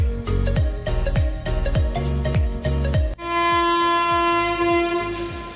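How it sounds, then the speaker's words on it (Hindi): A train horn sounds at Nagda Junction before departure, a long loud sustained blast following a rhythmic series of clanking railway knocks, heard close with no talk. "ये हमारी ट्रेन का सिग्नल था और अब हमारी ट्रेन चलने वाली है नागदा जंक्शन से।"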